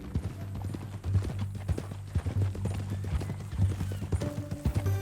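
Horse hooves clip-clop in a steady walking rhythm in Red Dead Redemption 2, close and fairly loud, with a short whinny-like tone near the end and faint game ambience beneath.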